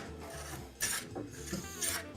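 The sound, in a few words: hand rasping wood to shape a hand plane handle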